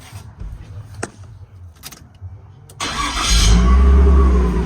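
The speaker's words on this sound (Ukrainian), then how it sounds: "Також я прикрутив вихлоп, е, двигун тихо працює." A Nissan Stagea with its exhaust refitted: a few clicks and small knocks, then the engine cranks and fires, settling into a loud, steady idle close by.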